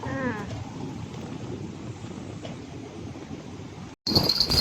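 Rain falls steadily during river fishing for carp, a dense, continuous patter with wind buffeting the microphone, briefly cutting out near the end before returning louder.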